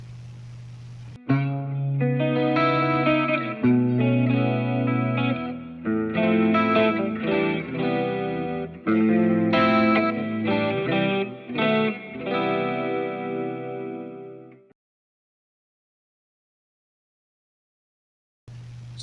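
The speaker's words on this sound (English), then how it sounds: "And this is the sound with a reduced effect." Electric guitar played through a POG 2 octave pedal with the chorus effect turned down, a run of sustained, layered notes and chords for about fourteen seconds before it stops and falls silent.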